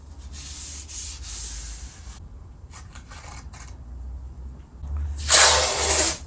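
Masking tape being rubbed down firmly to burnish it during an electric guitar fingerboard build, with close, short bursts of friction, then a louder sustained rub near the end.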